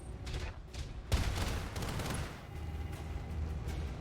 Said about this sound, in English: Those turrets pack quite a bit of firepower.